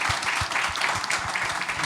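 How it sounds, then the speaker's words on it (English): Steady, dense clapping from a group of people, continuous and fairly close throughout, with no clear voices over it. "who are we clapping for?"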